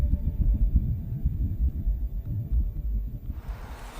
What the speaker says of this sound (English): This is the sound of a Martian wind blowing against the spacecraft.